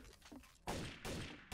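Gunfire in the video game Trouble in Terrorist Town: two loud, sharp bursts of shots, the second following about a third of a second after the first, preceded by quieter clatter.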